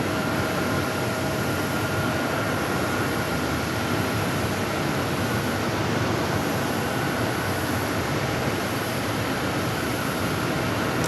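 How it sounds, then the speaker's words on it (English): An Alaska Horizon airliner takes off from runway 8 at Phoenix Sky Harbor, a loud, steady, broadband engine roar that holds evenly throughout with no voices. "Let's take off heading to SFO, Alaska Horizon, flight 2328."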